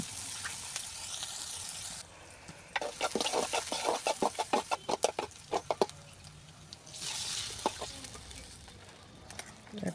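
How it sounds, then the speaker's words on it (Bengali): Chopped onions dropped into hot soybean oil in a kadai, crackling and spitting in a burst of sharp pops before settling into a softer sizzle, close and moderately loud without talk. "এখন কড়াইয়ের মধ্যে দিব সয়াবিন তেল, দিয়ে দিব পেঁয়াজ কুচিটা"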